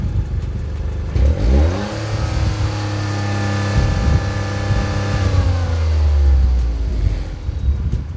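A Toyota GR Corolla's turbocharged 1.6-liter three-cylinder engine revs up hard, holds a high steady drone, then sweeps back down, loud and close with no talking.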